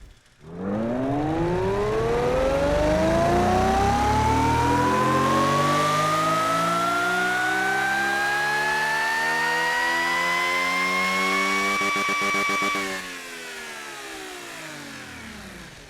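A 2460-horsepower Popemobile supercar with restricted mufflers revs steadily up to its 12,000 RPM limit, a loud, rising, high-pitched engine whine held for about twelve seconds before it drops off.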